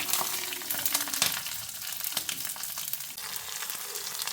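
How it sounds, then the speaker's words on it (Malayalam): Ginger, garlic, green chillies and curry leaves frying in hot oil with mustard seeds for a mango-ginger pickle, a steady close crackling sizzle with occasional stirring scrapes, no talk. "ഇഞ്ചി വെളുത്തുള്ളി നന്നായി മൂത്ത് വരട്ടെ"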